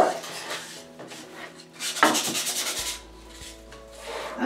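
Sandpaper rubs across a wooden photo frame in steady scratchy strokes, with a louder burst of quick back-and-forth sanding midway and a faint hum underneath. Nobody speaks.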